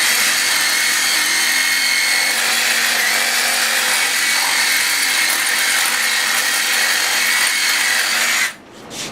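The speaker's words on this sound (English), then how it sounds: "The Sawzall won't cut the meat, but it'll cut the bone." A Sawzall reciprocating saw cuts through rib bone while ribs are processed, a loud, close, continuous buzzing rasp that stops abruptly near the end.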